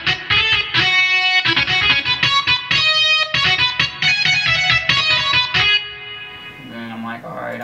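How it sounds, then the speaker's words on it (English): Bright, distorted synth chords play in choppy bursts, then one sustained tone rings out with a reverb tail, no talking over it. "let me add some reverb to this."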